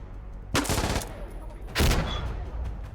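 Two bursts of rapid gunfire from the video game Insurgency Sandstorm, the first near 0.5 s and the second around 1.8 s, loud and close against a steady ambient battlefield hum.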